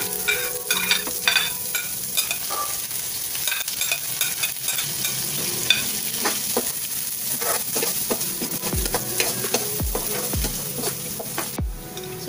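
Sliced onions sizzle steadily in a hot pan for a Filipino chicken curry, with repeated scraping stir strokes and scattered sharp pops and taps of the spoon against the pan, all close and continuous with no talking.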